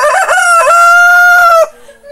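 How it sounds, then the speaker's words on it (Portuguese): A rooster on a rural Brazilian smallholding crows once, loud and close, a long drawn-out cock-a-doodle-doo lasting about a second and a half before fading into quiet background. "tem algumas pessoas que acham que eu boto um fundo musical de galo cantando"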